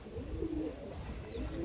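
A male pigeon with dark purple feet coos in low, soft, rolling phrases close by, steady against a faint background hum, with no talk.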